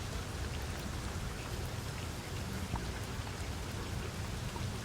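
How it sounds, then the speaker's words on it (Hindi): Heavy rain pours steadily during a stormy night at a railway station, a dense, even hiss with no breaks, moderately loud and without voices. "अब यहाँ पर ऐसी बारिश हो रही है"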